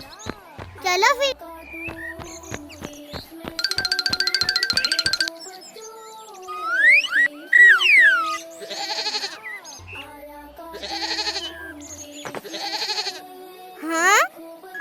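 A white goat on the run bleats repeatedly in loud wavering cries, mixed with children's excited talk and cartoonish sound effects in an Eid story setting.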